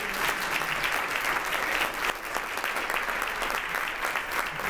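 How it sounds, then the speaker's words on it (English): Audience at a 2016 Florida House District 68 candidate forum applauding the candidates: dense, sustained clapping from a crowd, filling the room evenly for several seconds. "let's give these guys a round of applause."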